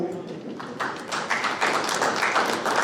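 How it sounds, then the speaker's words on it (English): Applause from a conference audience honoring a panelist at a cashew crop outlook discussion: scattered claps at first that thicken into fuller clapping, mixed with some background murmur. "of applause for Mr. Vasudev Baku"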